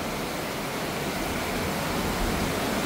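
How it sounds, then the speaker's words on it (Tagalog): Heavy rain on roof sheeting sends water leaking in over the edge, heard as a dense, steady rushing wash of rain and water noise, loud and unbroken throughout. "Pumapasok din dyan, Bray, yung tubig"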